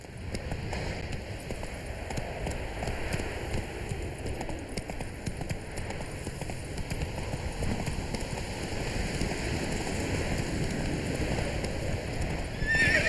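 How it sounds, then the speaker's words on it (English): Horse galloping in The Witcher 3 video game, steady rapid hoofbeats with a brief neigh, heard against continuous rain on the ground. Both stay at an even level throughout with no voices. "That's it, Roach"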